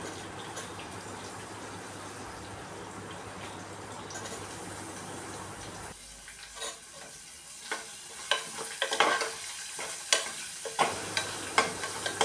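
Onion and curry leaves frying in a pan for wheat rava upma, a steady sizzle followed by quieter stretches broken by repeated scraping stirs of a spoon against the pan.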